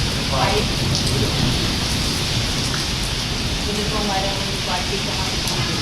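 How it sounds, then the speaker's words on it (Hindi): Heavy rain pours steadily and loudly as a dense, continuous hiss, heard from inside a garage, with faint voices in the background. "सुनाते हैं बारिश का"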